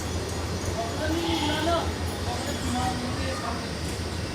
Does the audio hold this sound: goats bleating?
yes